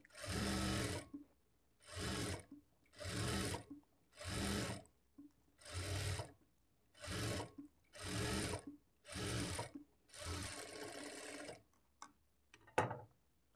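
A sewing machine stitches blouse cloth in about ten short bursts of rapid mechanical whirring, each lasting roughly a second with brief pauses between, heard up close. A few faint clicks follow the final run.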